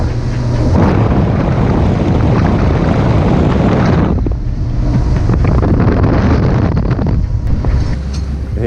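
Boat cruising through an island archipelago off Groote Eylandt, a steady loud rush of engine and water with strong wind buffeting the microphone throughout, no voices.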